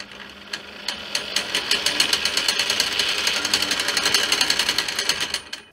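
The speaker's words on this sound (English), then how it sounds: "when I push this down, it connects that one and the motor starts running" Electric motor of a homemade motorized guitar pickup winder runs close up, a steady mechanical whir with fast, evenly spaced clicking pulses and no talking.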